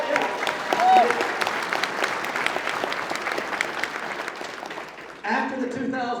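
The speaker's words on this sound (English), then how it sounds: "Yeah, you can applaud for that." Dinner audience at a Constitution Day event applauds steadily for several seconds, a dense clapping wash with some crowd noise, ending as a voice resumes speaking over the fading claps.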